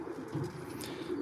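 Racing pigeons coo softly inside a loft, low murmuring calls with a faint flutter, quiet and close with no one speaking.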